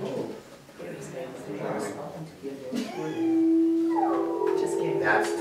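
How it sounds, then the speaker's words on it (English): A wolf howls to call in his pups while another wolf answers, long rising and steady howls heard near and clear, with people's voices and other wolf calls around them at first. "That's Dakota calling in his puppies and that's Freedom responding in his turn"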